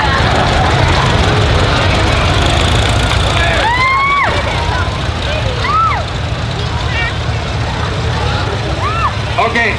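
Tractors rumble and idle together along a Veterans Day parade route, a constant low engine drone beneath a lively crowd, with a few rising and falling whistles or horn tones cutting through.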